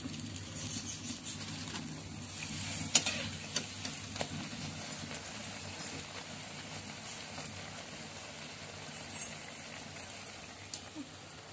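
Slices of bread fry in a pan of hot oil with a steady, low crackling sizzle, interrupted now and then by brief pops and spatters, and no voices are heard over it.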